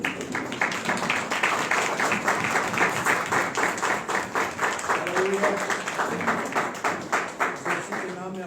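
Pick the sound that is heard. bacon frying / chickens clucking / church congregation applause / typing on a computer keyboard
church congregation applause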